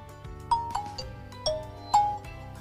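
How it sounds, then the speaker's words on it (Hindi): A Nokia 5710 XpressAudio phone boots up with its startup tune, a bright electronic melody of several distinct notes over sustained tones, loud and close with no talking. "इसको सबसे पहले हम बूट करते हैं और नोकिया वाली धुन का पूरा मजा उठाते हैं।"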